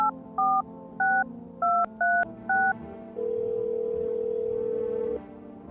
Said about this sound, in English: Let's make some phone calls and then we'll test people.